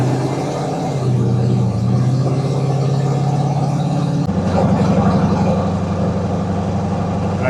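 Chevrolet truck with a 5.3L engine driving at normal speed, a steady mid-pitched engine drone and road rumble throughout, with a slight shift in tone partway as the engine load changes.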